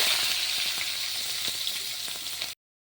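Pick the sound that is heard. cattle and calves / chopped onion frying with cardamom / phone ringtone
chopped onion frying with cardamom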